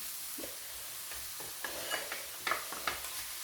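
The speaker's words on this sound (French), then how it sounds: "من بعد ما تحمرت البصله ديالي كنزيد عليها الخضر ديالي كاملين" Mixed vegetables, including carrots and zucchini, added to browned onion and frying in a pan, a soft low sizzle with a few light clicks and taps of stirring, no voices.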